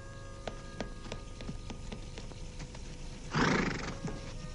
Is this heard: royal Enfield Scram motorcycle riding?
no